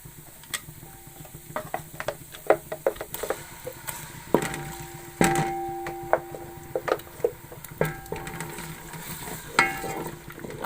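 Ground tomato and browned onion masala for a chicken handi being fried in a pot, with a spoon scraping and knocking in an irregular rhythm over a low, quiet sizzle and no voices.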